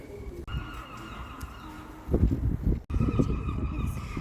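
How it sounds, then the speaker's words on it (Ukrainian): Seagulls call while circling over the University of Galway in Ireland, distant honking cries over outdoor ambience and a voice talking. "Кружляють чайки"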